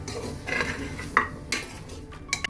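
Beef, shallots and salt being stirred in a metal pot for Kerala beef with raw banana: a run of utensil scrapes and clinks against the pot, with sharper knocks scattered through, close and moderately loud, with no talking.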